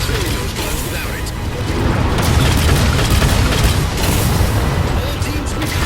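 A Pelican dropship crashing in the Halo 4 video game, a loud, continuous rumbling roar of explosion and wreckage that swells midway and holds steady for several seconds, dense and close.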